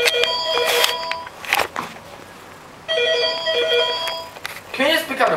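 A phone rings in repeated electronic ringtone bursts, loud and close, with short pauses between them and some background noise, ahead of a phone prank on a man.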